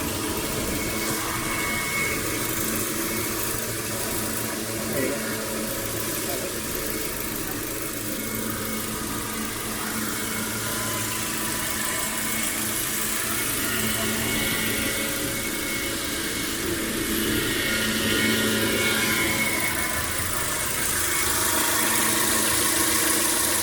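A blueprinted Proton Satria GTI engine idles smoothly, heard close from inside the engine bay by the aircon compressor. A steady, even hum with a light whir holds for the full stretch.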